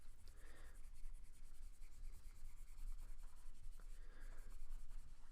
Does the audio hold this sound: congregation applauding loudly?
no